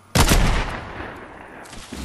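A single loud gunshot in the Fortnite video game, a sharp close crack with a long decaying tail, followed by faint game ambience and no talk.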